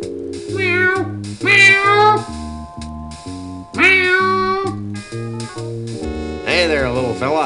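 A cat in the video game Sam & Max: Hit the Road lets out several loud, drawn-out wailing meows over a bouncy musical backing, repeated in bursts across the stretch.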